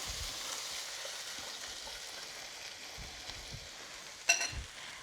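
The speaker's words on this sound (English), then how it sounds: "And then you're going to keep stirring, keep stirring, keep stirring until it looks creamy." Crab curry with custard stirred in a pan, a quiet continuous sizzle with soft scraping of the spoon and a brief louder clink near the end.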